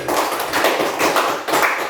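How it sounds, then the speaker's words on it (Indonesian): Applause for group 4 in a classroom, a burst of close clapping that rises and falls in uneven waves over a couple of seconds. "Baik, tepuk tangan untuk kelompok 4 dulu"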